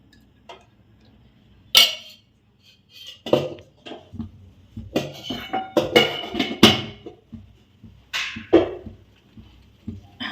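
Ghee being spooned into a heated pressure cooker, with scattered metallic clinks and scrapes of spoon against the cooker at irregular intervals, close and moderately loud, with quiet gaps between the clatters.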